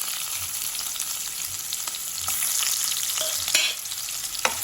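Chopped onion and green chili hit a hot mustard-seed tempering in oil, giving a continuous crackling sizzle dotted with sharp pops and spoon clicks as the pan is stirred.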